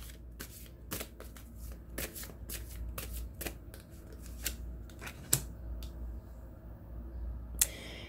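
Tarot cards shuffled by hand in a quiet room, a steady series of crisp riffling and slapping bursts with occasional sharper snaps, close and alone without talk.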